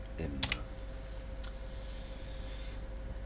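A few quick keystrokes clatter on a computer keyboard near the start, then a couple of isolated clicks follow over a quiet room hum, close and soft.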